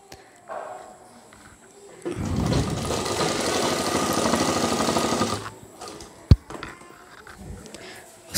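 A sewing machine stitches trousers in one continuous burst of about three seconds, a rapid mechanical whirr, with quiet handling sounds and a sharp knock before and after.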